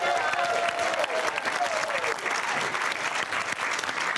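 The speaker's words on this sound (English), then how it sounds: "Give Barbs a round of applause," A studio audience on a comedy panel show breaks into loud, sustained applause that fills the whole stretch at an even level, with a few faint voices mixed into the dense clapping.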